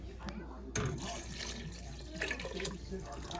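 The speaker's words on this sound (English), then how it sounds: "So now that everything has been cooked, I'm gonna add in my water" Water is poured into a soup pot of cooked ingredients, a soft, fairly quiet splashing and trickling with small bursts in the background.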